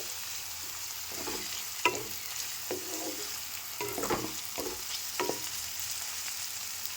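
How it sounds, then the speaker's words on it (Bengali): Snake gourd frying in a pan over a low gas flame, a gentle steady sizzle with several scraping stirs of a spatula at uneven intervals, close and without talking. "গ্যাসের আঁচটা কমিয়ে দিয়ে আমি চিচিঙেটাকে ভেজে নিয়েছি।"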